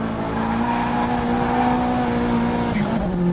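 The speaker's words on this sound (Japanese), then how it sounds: "アクセル床までベタ踏みで流しまくってる。" A drift car on a Japanese mountain pass held at full throttle, its engine droning loud and steady at high revs, the pitch dipping briefly near the end.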